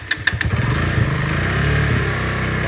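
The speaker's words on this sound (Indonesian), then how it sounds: "Kita panasin dulu motornya." A motorcycle engine idles while warming up, a steady, close, loud putter with a few sharp clicks at the start and no talk over it.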